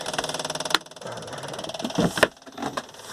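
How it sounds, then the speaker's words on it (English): A two-cylinder boat engine cranks and catches, settling into a steady, fast chugging idle, with a few sharper clanks and bumps over the running motor. "So start up the engine by turning on the pump, turn this on, switch on the key."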